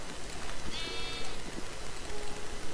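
A single sheep bleats in Minecraft, a short wavering cry rising above a steady, noisy game background.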